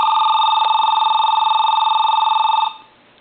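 A telephone on a lineman's buttset test rings loudly and close with a continuous electronic warble held for about two and a half seconds, then cuts off to faint background.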